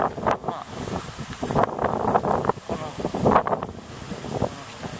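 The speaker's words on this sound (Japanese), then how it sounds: "ものすごい風で吹かれて 大変そうだけど" Strong typhoon wind from Typhoon 14 in Jiaoxi, Yilan, Taiwan, in September 2021 buffets the microphone in repeated loud gusts and roars, with a voice speaking intermittently underneath.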